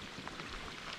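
Steady rain falls around an angler out fishing in pre-spawn season, a dense even hiss of drops on the surface that holds constant at close range for the whole second, with no talking.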